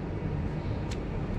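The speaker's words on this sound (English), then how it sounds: "You got two absorption chillers working right now." Two absorption chillers run in a mechanical room beside a two-pipe fan coil unit being repaired, giving a loud, steady low rumbling hum with one brief hiss partway through and no talk.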